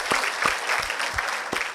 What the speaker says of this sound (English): I think we all should give an applause